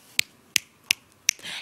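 Four crisp finger snaps spaced evenly about a third of a second apart, close and loud, made as music with body percussion, followed by a brief soft rustle at the end.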